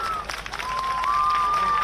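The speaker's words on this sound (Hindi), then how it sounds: "आप सभी से जोरदार तालियों की अपेक्षा।" Audience applause welcoming the chief minister at an official ceremony in Uttar Pradesh, a short burst of crowd clapping with a sustained tone running beneath it.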